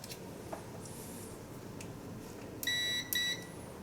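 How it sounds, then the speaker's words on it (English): Multimeter continuity beeps while testing a heater O2 sensor circuit: two short, clear tones in quick succession near the end, over faint background noise and a few light clicks. "I want the meter to make a noise when it's continuity"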